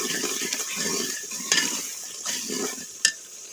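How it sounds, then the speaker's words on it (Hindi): Red chilli, turmeric, salt and coriander spices fried together in a pan for aloo matar curry, a steady soft sizzle under repeated stirring strokes and occasional clinks of the spoon. "ये तमाम अज्जा इकट्ठे डाल देंगे और इनको अच्छी तरह भूनेंगे"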